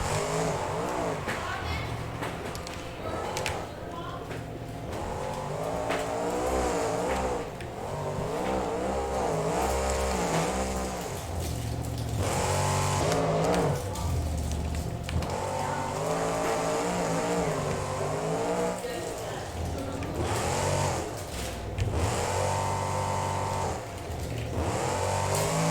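A monster truck revs its engine in BeamNG, a loud, continuous roar that rises and falls in waves throughout.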